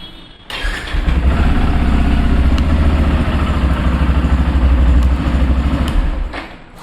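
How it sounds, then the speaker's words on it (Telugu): Yamaha FZ-X motorcycle, 2024 chrome edition, starting up with a brief thump and then settling into a loud, steady, throaty idle that runs for several seconds before fading at the end. "ఒకసారి వెహికల్ స్టార్ట్ చేసి చూపిస్తాను లుక్."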